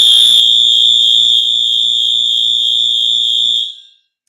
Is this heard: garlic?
no